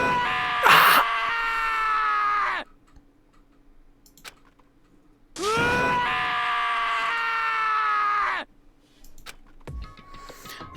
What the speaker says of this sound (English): As Taka's sad screams invaded our skulls